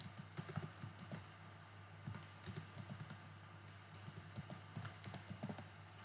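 Fingers type a theme name on a computer keyboard, a quiet run of close, irregular clicky keystrokes with brief pauses between bursts and no speech.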